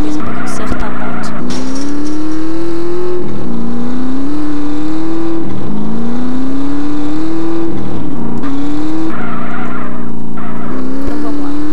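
Motorcycle engine in GTA San Andreas, a steady revving whine that rises in pitch through each gear and drops at every shift, repeating in loud cycles, with skidding tire noise mixed in.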